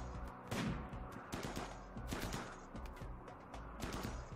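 Gunfire from a raid in the colony game Rimworld (A16): scattered bursts and single shots crackle in irregular clusters at a moderate, somewhat distant level, with no talking.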